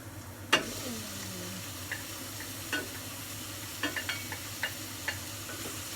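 Ground pork frying in a home kitchen pan while being stirred, with a soft steady sizzle and a handful of light scrapes and taps of the utensil against the pan, no talking.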